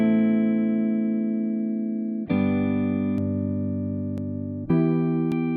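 Dark guitar run through an American Tweed amp simulator plugin in a DAW, three long sustained chords struck about two seconds apart, each ringing out steadily with faint clicks between.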